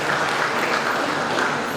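Audience applause at a public health professional induction ceremony in Lagos: a steady, dense wash of clapping from a crowd that holds at an even level for the whole moment.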